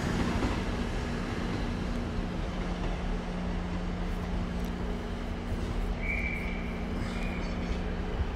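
Train pulling out of Exeter St David's station on Christmas Eve, a steady rumbling roar with low mechanical hum, briefly joined by a faint high squeal near the end.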